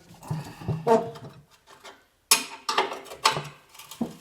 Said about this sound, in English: We just take our 3/4 inch wrench, tighten them up